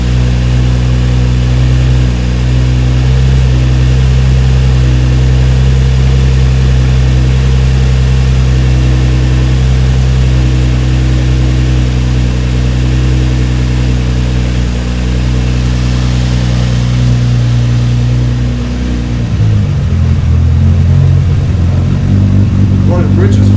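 A turbocharged Nissan 350Z engine, running rich, idles loud and close with a deep, rumbling burble throughout. Near the end the pitch dips and shifts as the throttle changes.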